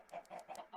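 Chickens clucking inside a modded video game, a quick run of about four soft, evenly spaced cluck bursts heard on their own at low volume.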